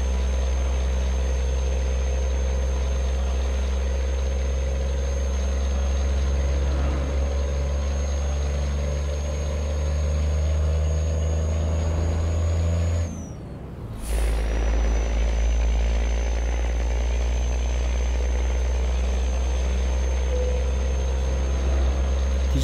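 A Volvo 10x4 heavy-haul crane tractor in Euro Truck Simulator 2, pulling 51 tons up an Alpine climb at full throttle, drones with a steady loud low engine roar that drops out briefly at a gear change before pulling again.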